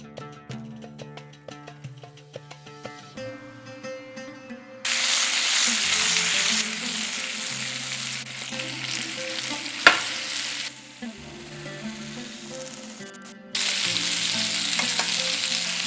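Pointed gourd (potol) pieces frying in hot mustard oil, a steady broadband sizzle that switches on and off in loud stretches, with faint background music underneath and brief clatter partway through.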